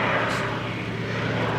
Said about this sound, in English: a wave farewell from the Swordfish as it passes by